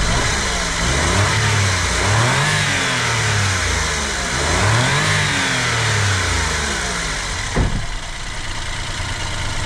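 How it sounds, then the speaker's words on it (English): A Suzuki Alto Works RSZ engine revs twice, rising and falling in pitch with a rough mechanical tone, then settles to a steady idle, close and loud. "Let me give it a couple revs."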